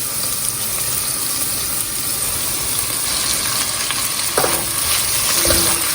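Onions sizzle and fry steadily in a pan for okra sabzi, a loud continuous hiss that runs the whole time, with a couple of brief clinks of a utensil near the end.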